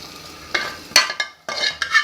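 Fried masala gets stirred into boiled chickpeas for chana masala, heard as four or five close, distinct scraping stirs with brief sizzling bursts between short quiet gaps.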